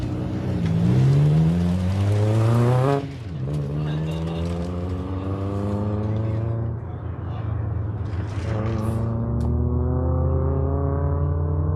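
A Toyota Yaris autocross car accelerates through the course at an SCCA championship event at Auto Club Speedway, engine pitch climbing through several gear shifts. The engine note is loud and sustained, with a commentator talking over it.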